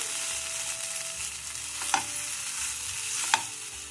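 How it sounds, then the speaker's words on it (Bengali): A spoon stirs a spice paste of cashew and melon seed in a pan for doi katla, making a soft sizzle with two distinct scraping clinks a little over a second apart. "এবার কিন্তু আবার ভালো করে একটু নেড়ে চেড়ে মিশিয়ে নিতে হবে"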